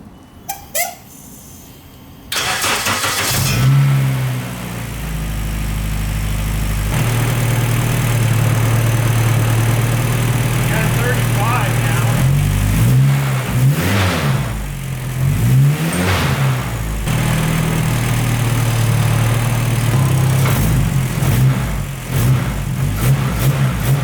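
The Honda K24-swapped Nissan Cefiro's engine cranks and fires after a quiet start, then settles into a loud, steady idle with occasional revs blipping up and down.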